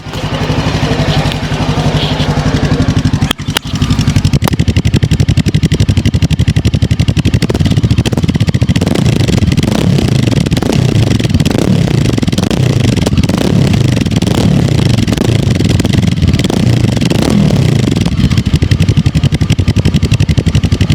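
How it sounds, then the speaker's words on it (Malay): A Brixton 500 Storr motorcycle engine runs steadily and close by for the whole stretch, with a brief clatter near the start before the rumble settles into a continuous idle. "Kita dengar bunyi enjin dia."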